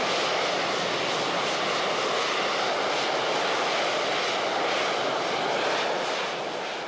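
A loud, continuous jet engine roar from an AV-8B Harrier II hovering at an air show, a broad rushing whine holding steady throughout, close and powerful, with no voices.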